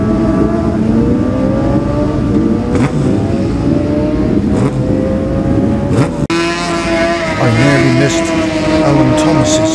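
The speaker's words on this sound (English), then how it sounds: "This is number 80, Darren Greer, on his Kawasaki." A Kawasaki superbike races past during the Classic TT 2017 Superbike race, its engine a loud, sustained high-revving howl that shifts pitch as it passes close by, with a voice faintly audible over it.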